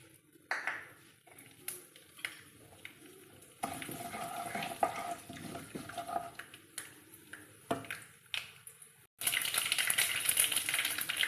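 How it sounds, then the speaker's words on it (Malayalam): Mustard seeds sputter and crackle in hot oil while making a dried mango pickle, with scattered sizzling pops that swell into a loud, dense burst of spattering near the end. "ചൂടായ എണ്ണയിലേക്ക് കുറച്ച് കടുക് ഇട്ട് കൊടുക്കുകയാണ്."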